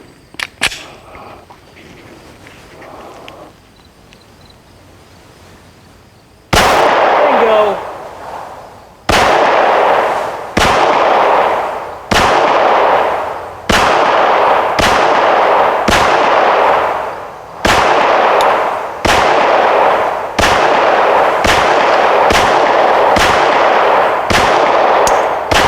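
A Smith & Wesson M&P 22 Magnum pistol fires about a dozen loud, sharp shots at irregular intervals, each trailing into a brief echo, after some quiet handling at the start.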